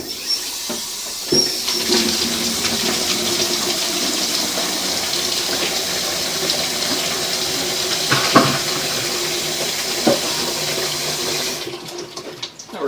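Water runs from a garden hose in a steady, loud rushing hiss, with occasional clanks and knocks over it, until it cuts off abruptly near the end; no one speaks.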